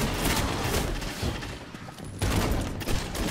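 Gunfire in a Destiny 2 match, with dense, continuous bursts of shots and booms that dip briefly in the middle and then resume loud and close.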